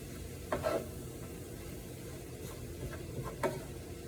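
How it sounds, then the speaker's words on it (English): Onions, kale and cabbage for a buttery coleslaw sizzle softly in butter, a faint steady frying hiss with a few light clicks of stirring, close but quiet, with no talk. "we're going to toss the onions, kale, and cabbage in the butter because we're making us a nice buttery coleslaw."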